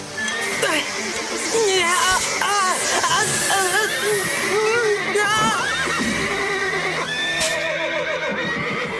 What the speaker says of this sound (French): Calmez les chevaux!